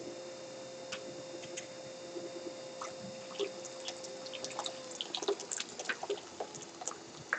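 Water boiling in a bucket during pottery work in a studio, a faint run of small ticking bubbles and pops that grows busier toward the end over a low electrical hum.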